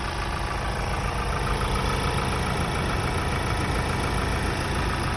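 A Ford Transit Custom MS-RT van engine idles steadily after a cold start, a constant close mechanical drone with fine rapid ticking texture and no talk.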